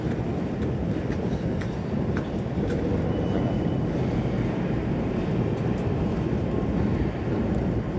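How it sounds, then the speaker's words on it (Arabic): A metro train rumbles steadily through a Moscow metro station, a low continuous roar with some wind noise, no voices. "عادي اهوت مترو."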